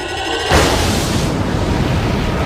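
A loud explosion from the Star Trek film The Undiscovered Country bursts in suddenly after a brief lull, then rolls on as a sustained, heavy rumbling roar.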